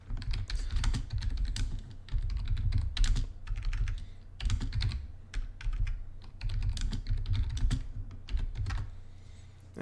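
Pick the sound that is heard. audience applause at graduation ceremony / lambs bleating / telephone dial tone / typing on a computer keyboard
typing on a computer keyboard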